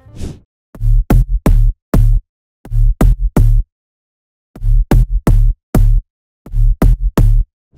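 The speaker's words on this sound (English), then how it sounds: "For the B part, I found the great sounding 808 bass, which sounds like this" Punchy 808 bass preset from a bass house track thumps in short, tightly rhythmic bursts of deep tones, grouped in syncopated phrases separated by brief silences.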